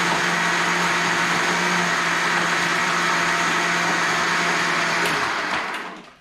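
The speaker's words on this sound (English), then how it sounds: "turn the blender back on." A blender crushes ice for a protein milkshake, a loud, steady whirring grind that runs continuously for several seconds before winding down and cutting off near the end.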